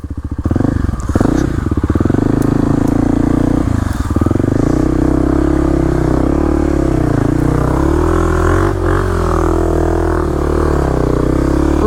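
Kawasaki KLX300 dirt bike ridden on a hard Hatfield McCoy trail, loud close engine revving and labouring with rising and falling pitch, plus clatter from the rough terrain, running continuously.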